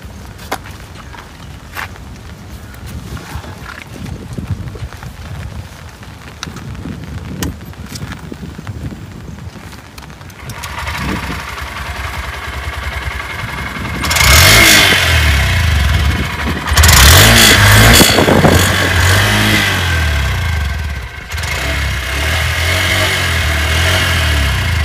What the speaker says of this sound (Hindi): तो अभी गाड़ी स्टार्ट करके दिखा दो आपको, गाड़ी का साइलेंसर का साउंड सुनो आपसे।